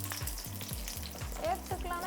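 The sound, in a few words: onions frying in hot oil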